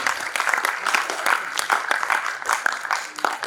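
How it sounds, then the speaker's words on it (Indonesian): Audience applause at an organizational behaviour seminar event, a steady patter of many hands clapping continuously for a few seconds in a room, fairly loud with faint voices mixed in. "Ayo dong tepuk tangannya."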